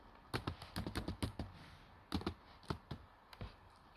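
Rapid bursts of typing on a computer keyboard, clicky keystrokes in quick clusters with a short pause midway, close and fairly clear.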